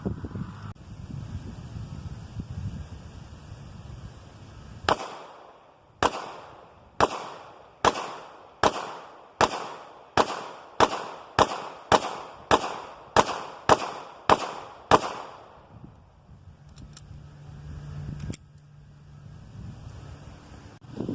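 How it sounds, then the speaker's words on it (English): A .40 pistol fires a rapid string of about a dozen loud, sharp shots at body armor outdoors, evenly spaced with short echoing tails, after a windy quiet start and followed by quiet wind noise. "See what a pistol will do to it."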